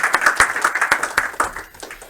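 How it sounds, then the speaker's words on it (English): A game studio team applauds themselves at a build review milestone, a burst of quick, loud, overlapping claps from a small group close by, tapering off near the end. "give yourselves a round of applause for another great milestone"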